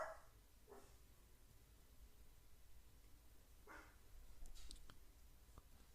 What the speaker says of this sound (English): Hear my dog barking in the background